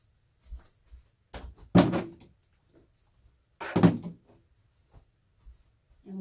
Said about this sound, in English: I'm going to move our paints out of the way, put them back in their drawers and on the shelf.